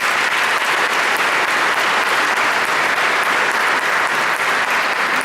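A church congregation applauds throughout an Easter service, with dense, steady clapping from many hands filling the space for the whole stretch.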